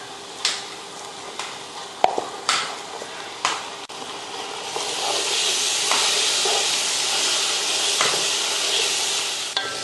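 Ginger garlic paste frying in a pan: a steady sizzling hiss builds and then holds, broken early on by several sharp clacks of stirring against the pan. No one speaks.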